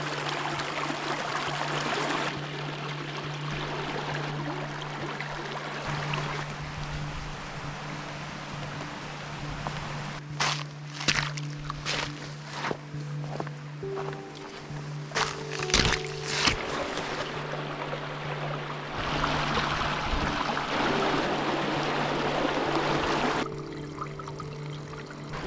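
A creek flowing through a winter forest, a steady broadband rush of water, with a stretch of irregular knocks and rustles in the middle and no talk.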